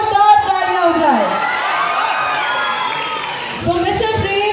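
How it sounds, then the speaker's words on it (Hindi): Student audience at an event in Patna, shouting and cheering in a sustained loud wash of voices with whoops, opening and closing with people speaking. "एक बार जोरदार तालियां हो जाए"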